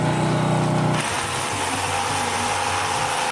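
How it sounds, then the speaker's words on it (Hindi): An electric drill boring holes during construction work at a temple, run from a generator. A loud, continuous whine shifts pitch after a second as the bit bites, then cuts off at the end. "तो चलो गाइस तुमके ड्रिल करी की बतौ छे।"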